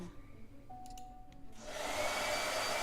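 A blow dryer switches on after a quiet moment with a few small clicks and a faint tone, then roars steadily at close range for the rest of the moment.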